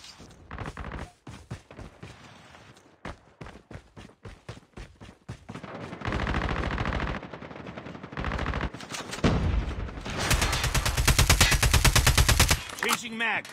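Submachine gun fire in Call of Duty rattles in rapid bursts, loud and close, with sustained automatic strings separated by brief pauses across the stretch.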